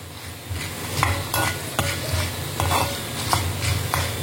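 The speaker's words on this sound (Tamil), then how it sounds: "இந்த ஒரு கைப்பிடி அளவு கருவேப்பிலை வச்சுருக்கேன், அதையும் போட்டு வதக்கிடுவோம்" Curry leaves sautéing in a pan for a pepper kuzhambu, giving a steady close sizzle with repeated scraping stirs of a spoon against the pan; no one speaks.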